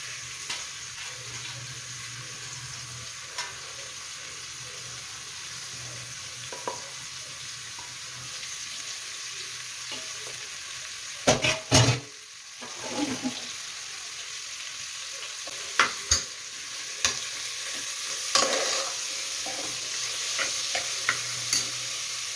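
Mutton kheema sizzling in a hot pan, with steady frying hiss throughout and scattered scraping stirs growing more frequent in the second half, a burst of clatter near the middle.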